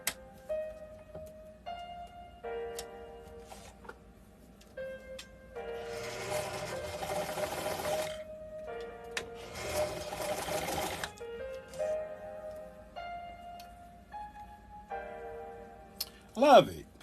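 A sewing machine understitches a pocket seam with the seam allowance pressed toward the pocket, running in two short, steady bursts separated by quieter pauses and soft handling ticks, close up and without overlapping talk.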